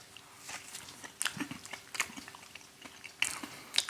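Hot Tamales cinnamon candies being chewed close up, soft intermittent crunching and mouth clicks in short bursts, quiet with no talk.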